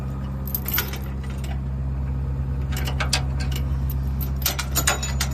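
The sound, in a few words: trailer safety chains rattling as they are disconnected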